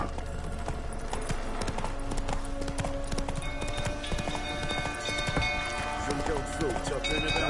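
Horse hooves clip-clop in a rapid, galloping rhythm in a video game, steady throughout. Voices speak over the hoofbeats along with other game sounds.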